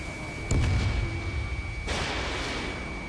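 A missile launching in Ace Combat 7: Skies Unknown, a sudden loud whoosh and blast that bursts in, decays, then surges again with a second rushing wave over a steady jet drone.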